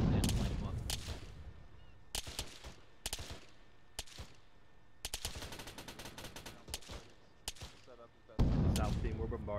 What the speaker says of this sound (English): I'm hearing enemy AK fire